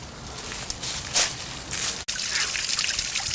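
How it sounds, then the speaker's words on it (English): Fast-flowing water in a backyard, a steady trickling and pouring rush with a few brief louder gushes and a sharp knock near the middle, moderately close. "I didn't really think I'd be able to get to this fast-flowing water"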